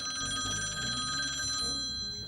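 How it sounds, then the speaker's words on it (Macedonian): A telephone rings with a continuous electronic bell tone, loud and close, repeating in short pulses with no voices over it. "Телефон."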